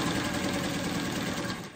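Sewing machine stitches freeform quilt block pieces together, a brief steady rapid whirring hum, close and fairly loud, with no talking.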